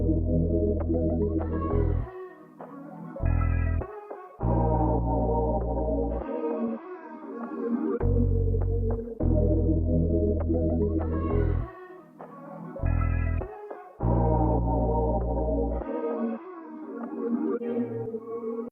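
A chopped R&B vocal sample drenched in vintage-style reverb and atmospheric effects, sung phrases repeating in loud, sustained sections broken by short gaps and abrupt cuts, with a spacious, echoing tail.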